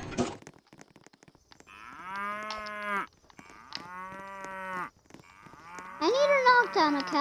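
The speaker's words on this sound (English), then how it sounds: "knock down a cow" A cow in a video game moos three times, long drawn-out calls separated by short pauses, the last one louder and rising in pitch.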